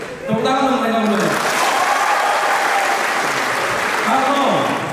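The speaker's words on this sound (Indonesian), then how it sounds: "Tepuk tangan untuk mereka berdua." A crowd at a university basic moral, ethics and national-defense training event claps for two people, a dense sustained burst of applause while a voice speaks over it at the start and end.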